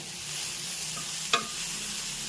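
Cabbage cooks in a pan with a steady, soft sizzle and broadband frying hiss throughout, broken by one brief clink or scrape of a utensil partway through; no voices.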